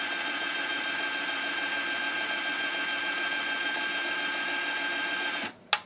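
A fake Black & Decker electric screwdriver runs at about 410 RPM with a steady, even motor whine, then cuts off abruptly and ends with a short click.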